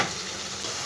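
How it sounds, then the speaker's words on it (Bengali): Chicken being fried with spices and a splash of spice-rinse water in a pan, giving a short, steady broadband sizzle at moderate loudness, with a slight scrape of stirring near the end. "দিয়ে খুব ভালো করে চিকেনটাকে কষিয়ে নেব"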